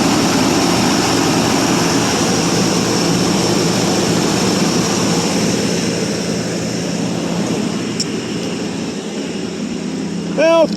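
A 1984 Chevrolet Suburban engine runs after a cold start following three years of sitting, with oil seeping from the valve cover burning off. It gives a loud, steady, close rumble throughout that eases slightly toward the end.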